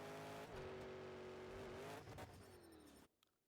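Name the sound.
monster truck engine noises in Monster Jam Showdown video game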